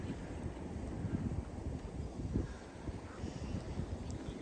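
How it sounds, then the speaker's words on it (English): Steady wind gusting across Hamworthy Beach, a broad rushing roar that swells and buffets the microphone throughout, with no voices. "The wind is blowing"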